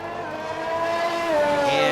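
F1 race car in a racing video game, new race leader heading down the Wellington Straight at the British Grand Prix; a steady, rising engine whine holds a high pitched tone throughout, close and continuous with no voices.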